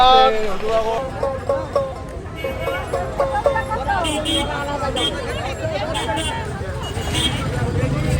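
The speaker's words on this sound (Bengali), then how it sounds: "দেখো নবদ্বীপ ঘাটে প্রচুর প্রচুর মানুষের সমাগম হয়েছে" A large crowd bustles at the Nabadwip river ghat as people step off a boat: a dense, continuous babble of many voices, steady and close, with nearby talk layered over it.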